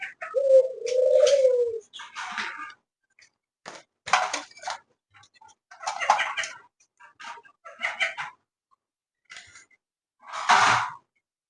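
Pet doves, a crested dove and one without a crest, give a low warbling coo at the start, followed by scattered short clucks and rustling bursts, close by with no talking.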